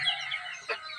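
Chickens cluck close by in a short burst, a brief sharper call rising midway over a steady murmur of fowl.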